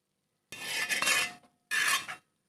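Pineapple caramelizing in a pan (an uruli) is stirred in two bursts of metallic scraping and rubbing, close and fairly loud, with a short pause between them and no talk.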